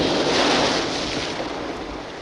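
Seaside waves wash over a sand castle on the beach, a steady surf hiss with wind buffeting the microphone, fading slightly over a couple of seconds.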